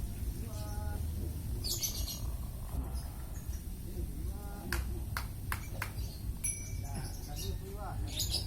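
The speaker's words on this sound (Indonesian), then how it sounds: "Seger burungnya dimandiin." A lovebird being bathed chirps in short, scattered tweets that come and go over a steady background noise, fairly close, with no clear talking.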